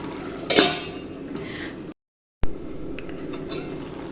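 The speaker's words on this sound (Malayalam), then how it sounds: "മൂടി വയ്ക്കും." A metal lid clanks once onto a cooking pot of Kerala-style vellari (cucumber) moru curry with onion and fish, the flame switched off; soft background sizzle follows, then a brief gap and a second faint knock.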